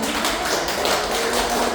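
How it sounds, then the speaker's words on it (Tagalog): An audience at a health symposium talk claps together in a dense, steady patter that stays level throughout, with no voices standing out. "Palakpakan naman namin"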